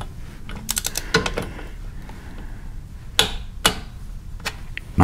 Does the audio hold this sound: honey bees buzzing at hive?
no